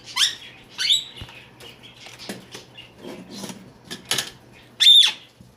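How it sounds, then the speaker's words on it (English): A pet bird bathing in water inside its box, splashing and flicking water around, giving several short bursts of wet fluttering spray and pattering near and fairly loud, with small squeaks between. "This is how they take a bath."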